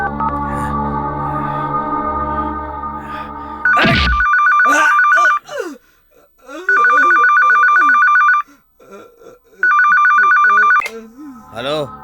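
A telephone rings while a call is placed in a dubbed South Indian action film, with repeated loud electronic ring bursts separated by pauses, a tone and voices before them and brief voices between rings.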